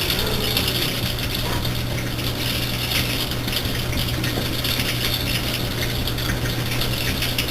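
A Whirlpool Cabrio washing machine works through its rinse and spin cycle, giving a steady, close mechanical whir with faint rattling and water sloshing that runs unbroken throughout, with no voices.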